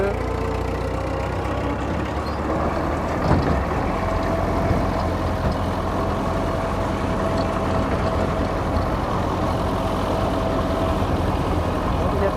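Tractor engine running steadily during a village ride on a cold winter day, a continuous close low rumble and hum throughout with a brief knock near the middle.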